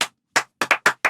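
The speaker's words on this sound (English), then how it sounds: "Very good. Claps." Children in a classroom clapping in unison: seven sharp, close claps, first slow and spaced, then quicker in pairs toward the end.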